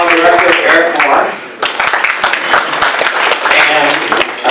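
An audience applauds at an award ceremony for a city mayor, and the clapping is dense and sustained. It dips briefly, then swells again into steady, loud applause that fills the room.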